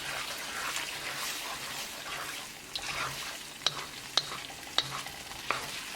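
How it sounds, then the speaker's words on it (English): A utensil stirs chilli chicken sauce thickened with cornstarch in a sizzling pan, with steady frying hiss and several sharp scraping clinks toward the end. "once it's added, mix it well"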